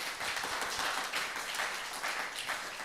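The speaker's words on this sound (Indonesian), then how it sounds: "Tepuk tangan yang indah" A church congregation applauding during a Sunday worship service, a steady, fairly faint wash of many hands clapping that stays even throughout with no clear voices.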